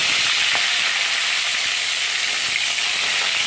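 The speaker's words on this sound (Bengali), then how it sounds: "কড়াইয়ে তেল গরম হয়ে গেছে, আমি মাছের মাথাটা ভেজে নিচ্ছি।" A rohu fish head fries in hot oil in a wok with a steady, dense sizzle that stays close and even throughout, with no voices.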